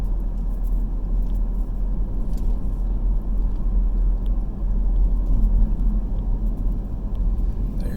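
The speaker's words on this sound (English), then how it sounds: "So this is a drive through Lafollette." Constant low engine drone and tire rumble heard from inside a car driving through town in La Follette, Tennessee, steady and loud throughout with no speech.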